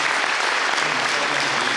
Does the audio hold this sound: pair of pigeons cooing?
no